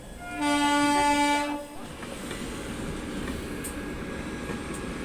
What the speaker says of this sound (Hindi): 2 ट्रेन का हमें क्रॉसिंग देखने को मिल रहा है।